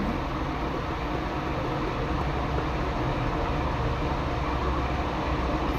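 A steady rumble of a train in the horror video game Granny Chapter 3 runs without break, a constant, fairly loud mechanical roar with no voices over it.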